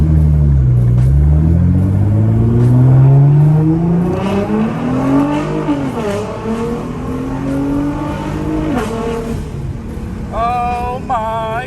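Car engine revved hard in repeated loud surges, pitch climbing and falling with each blip, close by and rumbling, with a voice speaking briefly near the end.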